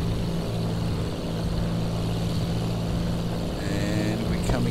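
Hawker Hurricane propeller engine at about 2300 RPM during takeoff in X-Plane 11, a steady loud droning roar that holds evenly throughout, with a brief higher whine near the end.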